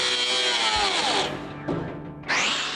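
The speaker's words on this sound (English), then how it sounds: "so we're going to cut the frame" Power tool cutting the frame of a 1970 Dodge Challenger R/T, in three short, loud, high-pitched whining bursts that rise and fall as the blade bites into the metal, close up with no talking.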